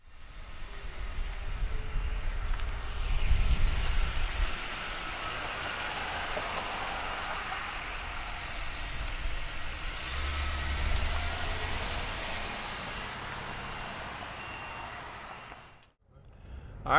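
A 1977 Buick Regal engine runs with a steady, mid-pitched rumble from inside the car, swelling slightly as it revs before dropping off abruptly near the end.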